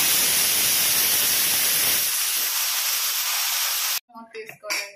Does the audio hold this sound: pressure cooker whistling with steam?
yes